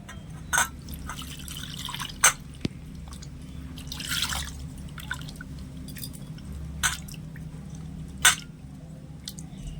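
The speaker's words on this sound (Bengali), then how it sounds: "তো একটু জল দিয়ে আমি ধুয়ে নিচ্ছি" Grated raw potato being rinsed with water for a vegetarian Mughlai paratha, giving a few soft separate drips and splashes over a low steady background hum, with no talking.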